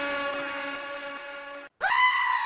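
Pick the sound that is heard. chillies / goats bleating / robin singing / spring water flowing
goats bleating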